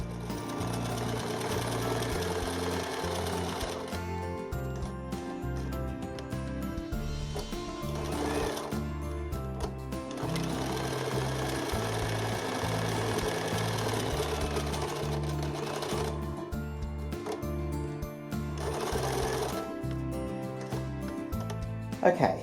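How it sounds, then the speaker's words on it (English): Sewing machine stitching buttonholes down the front of an Elizabethan doublet, a loud rapid mechanical whirr running in long bursts with brief pauses between runs. "Then I sewed many buttonholes down the front before running out of light."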